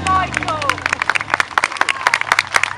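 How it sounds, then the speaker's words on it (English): Scattered clapping breaks out over a lively crowd at an outdoor fun day, sharp claps mixing with chatter and voices near the start. "Now I think that deserves a round of applause."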